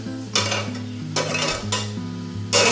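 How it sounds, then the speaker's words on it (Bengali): Vegetables fry and get stirred in a large pot on a small gas stove, with bursts of loud sizzling and repeated metal scraping and clinking of a spoon against the pot, close up and without voices. "এখানে খিচুড়িটা বসিয়েছি, এখানে সবজিটা ভেজে নেব।"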